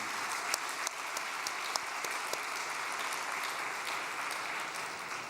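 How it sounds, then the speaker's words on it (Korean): An indoor audience at a gathering breaks into steady, dense clapping that carries on evenly for several seconds after a newly composed song is presented. "여러분 축하의 박수 한번"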